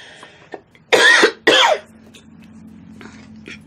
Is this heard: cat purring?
no